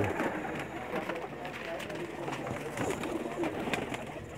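Pigeons of the Khambi Pakistani breed coo softly and continuously at a village loft near Sarai Alamgir, low burbling calls heard under a man's speech and some background chatter.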